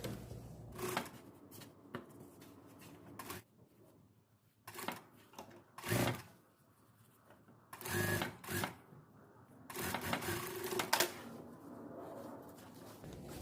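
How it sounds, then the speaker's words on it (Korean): Sewing machine running in short bursts while stitching a coat lining for a raglan-sleeve coat, separated by pauses and handling noises, fairly quiet and close. "이렇게 해서 안감 쪽에서 먼저"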